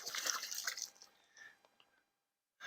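Water trickling and dripping out of a Sawyer Mini water filter, a soft close splashy trickle that tapers off into silence before a brief return at the end.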